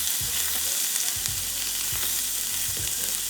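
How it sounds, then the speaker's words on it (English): Butter, garlic paste and tomato paste sizzling in oil left in a pan after frying chicken strips, a steady frying hiss with repeated scraping thumps of stirring. "Add me some butter to a little bit of the oil that remained in the pan after frying the strips, some garlic paste, and some tomato paste."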